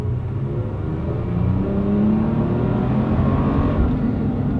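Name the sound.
Toyota Tacoma truck pulling away and accelerating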